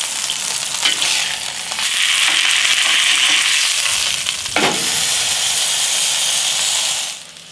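A beef roast sears in a Dutch oven on a gas grill, giving off a loud, constant hissing sizzle with a sharp clank partway through before the sound trails off at the end.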